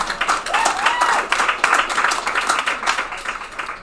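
Applause fills a graduation ceremony hall, a steady wash of many hands clapping at moderate loudness, with a voice and some crowd noise faintly woven through it.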